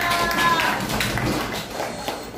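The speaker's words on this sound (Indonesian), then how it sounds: "Oke, tepuk tangan bagi kita semuanya." Students in a classroom clap their hands together in a quick burst of rapid, uneven claps that fades slightly toward the end, with some voices mixed in.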